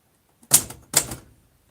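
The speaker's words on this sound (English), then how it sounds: "Why on a typewriter?" Two short bursts of typewriter typing, each a quick cluster of sharp mechanical key strikes, close and fairly loud with silence around them.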